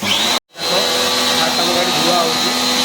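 Steady hiss of a pressure washer or air blower spraying a Honda motorbike at a Honda showroom, loud and continuous with one brief cut, a tone whining above the broadband rush.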